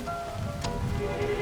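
Rain falls steadily outdoors in a village, a soft, even patter of drops on surfaces heard alone at a low, continuous level.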